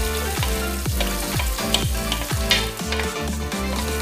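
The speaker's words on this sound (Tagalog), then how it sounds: "Igisang-isang po natin ang ating bawang" Garlic sautés in a pan with onions and tenderized beef for beef mechado, a close, steady frying sizzle with rhythmic stirring throughout.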